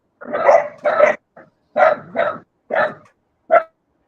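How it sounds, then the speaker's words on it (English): A dog barks about six times in quick, uneven bursts, close and clear, with short gaps between the barks and no talking. "Someone's dog."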